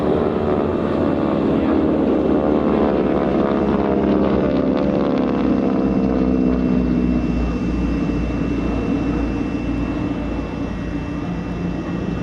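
A World War II-era propeller warplane of a type once fitted with guns and bomb racks for close ground support drones loudly throughout at an airshow, a heavy rumbling engine roar holding steady and slowly shifting in pitch as it passes.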